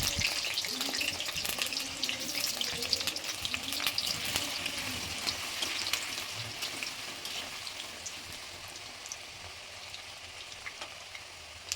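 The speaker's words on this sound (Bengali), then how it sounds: "এই আলুগুলো ছোটো ছোটো টুকরো করা আলুগুলো আমি হালকা হালকা করে একটু ভেজে তুলে নিয়ে নেবো" Small pieces of potato frying in mustard oil in a wok, a soft steady sizzle with light stirring and faint scraping, low and close with no voices.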